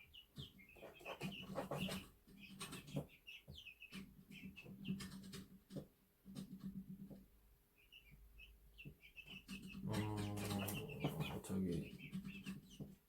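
Chickens and chicks clucking and chirping in a coop, with scattered short calls throughout and a louder burst of bird noise near the end; no clear talking.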